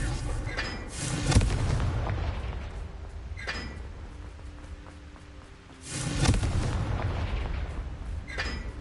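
In Hogwarts Legacy, the Confringo fire spell goes off as two heavy booming blasts a few seconds apart, each followed by a rumbling tail, close and loud, with no talking over them.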